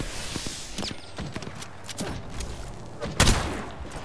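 Gunfire in the Apex Legends video game crackles in quick, uneven shots at moderate distance, with one louder close burst near the end over faint background game noise.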